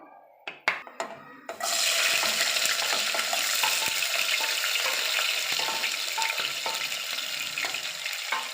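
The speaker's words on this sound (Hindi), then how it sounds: "अब हम घी में शामिल करेंगे लहसुन।" A few clinks, then a sudden loud sizzle as garlic hits hot ghee, continuing as steady frying close by, with no one speaking.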